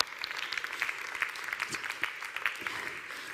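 Applause from a modest crowd, brisk overlapping claps at moderate volume, continuing throughout without any voices.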